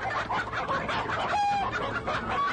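A large rooster clucks repeatedly at close range on a farm, steady clucks with a few brief squawks running through the whole stretch.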